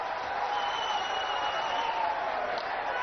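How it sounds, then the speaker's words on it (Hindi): Steady applause from a large crowd at an outdoor political election rally in Balagarh, Hooghly, West Bengal, a continuous even wash of clapping held at moderate loudness throughout. "अरे जोर से ताली बजाओ सुमना के लिए"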